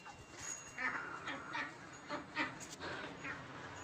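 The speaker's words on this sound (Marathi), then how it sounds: "पक्षी चालले." Birds pass over a village farm, giving a short series of faint, repeated honking calls in open outdoor air against a steady background hiss, with no talking.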